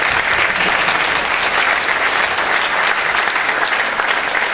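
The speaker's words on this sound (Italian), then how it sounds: "Un applauso, grazie." An audience claps steadily and loudly at a poetry award ceremony during a festival prize-giving, a dense, continuous wash of applause with no talk over it.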